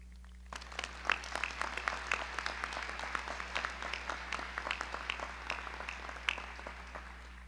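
An audience at a medical school commencement ceremony applauds, producing a steady wash of many hands clapping at moderate distance that starts abruptly and keeps going for several seconds without voices.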